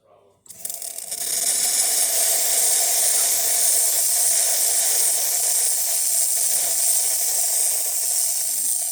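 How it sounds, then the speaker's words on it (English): The steam wand of a freshly serviced Gaggia Classic espresso machine starts after a short pause and then hisses loudly and steadily, a close, broad rushing roar with no talk over it. "And the steam, it takes a bit to start steaming."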